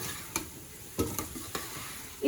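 Tomato paste stirred into a potato and vegetable filling in a pan, a soft steady sizzle with four or five distinct spoon scrapes and taps against the pan, close and fairly quiet, no speech.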